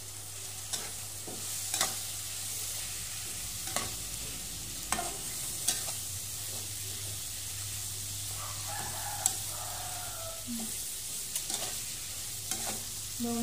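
Beef dropped into curry spice paste frying for sambal goreng, giving a steady sizzle with scattered stirring scrapes and clinks of a utensil against the pan, close and moderately loud throughout.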